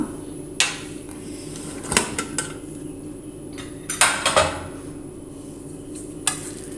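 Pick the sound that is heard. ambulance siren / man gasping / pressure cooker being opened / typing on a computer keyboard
pressure cooker being opened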